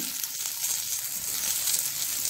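Tomato added to a pan frying over a low flame, a steady soft sizzle with faint hissing crackle throughout and no talking.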